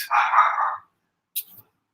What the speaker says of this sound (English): my dog upstairs is barking for what?